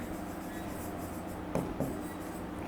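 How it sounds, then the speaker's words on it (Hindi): A sentence is written out on a board during a lesson, producing soft scratching strokes with a couple of sharper taps, faint against a quiet room background. "अब मैं लिखता हूं"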